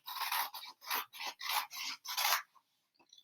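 Scissors cutting paper along a black line, seven close, raspy snips in a steady rhythm followed by a short pause and faint rustling.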